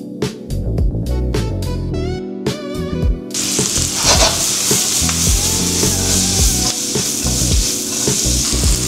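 Chopped onions hit a hot pan for Filipino-style shrimp gambas, a loud continuous sizzle following a few sharp knocks of a spoon or utensil against the pan, with stirring scrapes underneath.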